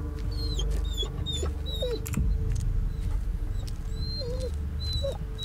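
A dog in the Blair Witch video game whimpers in thin, high, repeated cries over a low ambient rumble, with brief scrabbling sounds in between.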